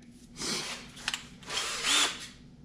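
A power drill bores a hole for a keyhole picture hanger with a 1/4 inch bit, running in two short close bursts with a brief clatter between them.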